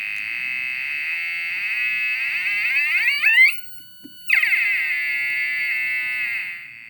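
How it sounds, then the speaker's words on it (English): A tiny DIY lo-fi synth built from a 555 timer module, battery and piezo buzzer emits loud, shrill, buzzy tones that slide sharply in pitch, cut out for a moment, then resume with another sweeping glide. "this tiny little lo-fi synth"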